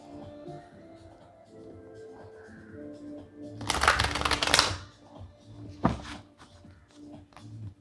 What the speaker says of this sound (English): These cards are difficult to shuffle.